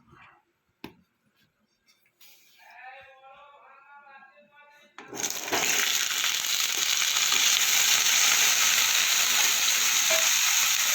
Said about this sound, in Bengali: তেলটা আমার গরম হয়ে গেছে, এবার আমি আলুটা ভেজে নেব।